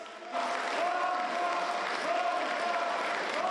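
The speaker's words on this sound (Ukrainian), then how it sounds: "Ганьба вигукували однопартійці опонента Василя Вірастюка по виборчому округу" A chamber full of parliament members erupts in loud, sustained crowd noise and chanting of "shame," a dense roar of many voices that holds steady throughout.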